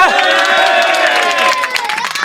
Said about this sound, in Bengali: এটার জন্য একটা হাততালি হয়ে যায়